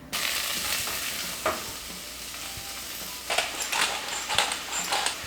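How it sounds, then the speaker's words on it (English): Sliced mushrooms and rosemary fry in a pan with a steady close sizzle, broken by scattered scrapes and clacks of stirring that grow busier toward the end. "Then I'm going to go in with some sliced mushrooms, some rosemary"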